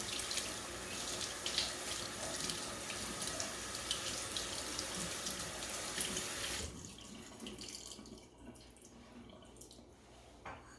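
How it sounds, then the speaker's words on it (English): Running tap water rinses rice for a simple rice dish, a steady close faucet stream splashing for about seven seconds before cutting off, leaving only faint room noise. "I'm going to rinse this rice first. And I just rinse it enough to get any of the outside impurities off."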